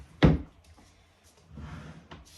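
A wooden drawer is handled in a home, giving one sharp knock as it shuts, then a softer slide and bump a second later, faint and close with no talking.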